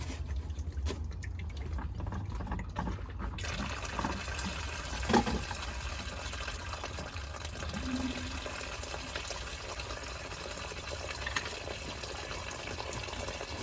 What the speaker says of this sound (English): Open up the cap and drain properly.